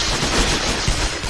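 Enemy gunfire rings out in the sniper shooter Sniper: Ghost Warrior, a dense burst of rapid shots with a sharper crack near the end, loud against the game's ambience.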